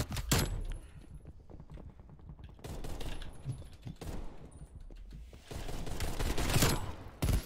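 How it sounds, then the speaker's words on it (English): Several separate bursts of rapid gunfire crack out from a gun in Fortnite, broken by short quieter pauses and with no voices over them. "Accuracy of this gun is garbage"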